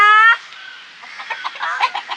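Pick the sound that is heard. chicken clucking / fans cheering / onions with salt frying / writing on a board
chicken clucking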